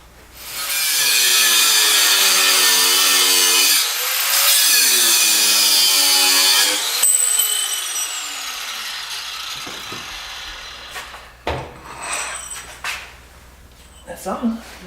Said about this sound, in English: I will cut it with the grinder.